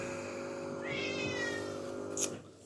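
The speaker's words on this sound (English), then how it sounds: "And there goes the cat." A cat meows once, moderately close, over steady background hum in a room where electronic waste is being taken apart; no one talks.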